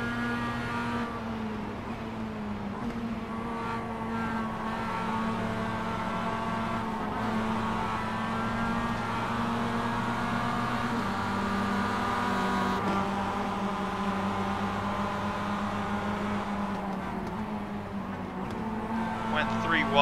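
Onboard Mazda MX5 race car at Bathurst, its engine droning steadily with shifting pitch as it runs in a close pack, with a voice talking over the engine noise throughout.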